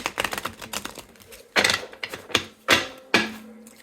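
Brisk riffling and snapping bursts, like a deck of cards being shuffled close by, with several sharp flurries separated by short pauses.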